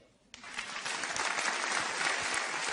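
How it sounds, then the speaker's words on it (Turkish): An audience bursts into applause after a short quiet moment, the clapping swelling quickly into a dense, steady wash that holds to the end. "Alkış."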